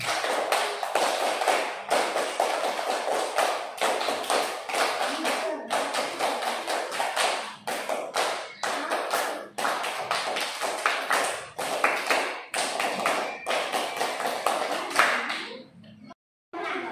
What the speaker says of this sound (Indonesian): Tepuk pramuka dua kali.